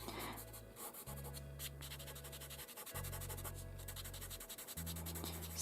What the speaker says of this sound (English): Let's blend all those layers together.